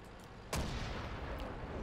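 A tank cannon fires once in World of Tanks, a single sharp loud boom with a broad rumbling tail that lingers over steady game background noise, with no talking.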